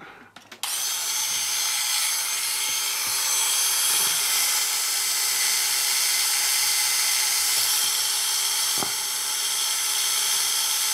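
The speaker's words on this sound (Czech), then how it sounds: "Takže vezmu vrtačku." A power drill bores a hole while fitting sound and DCC into a T466.0 locomotive model in H0 scale, whining steadily and loudly for about ten seconds after a brief start, with a few small knocks underneath.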